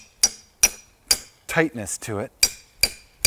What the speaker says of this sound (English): I'm just gonna secure it with my hammer because it's got a little